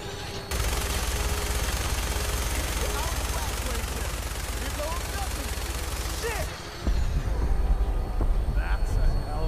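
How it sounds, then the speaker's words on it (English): Gunfire rattles almost nonstop in a Fallout 4 firefight as enemies shoot, bursts crowding together loudly for several seconds before a brief lull and more heavy firing, with a voice speaking over it. "They're shooting at me."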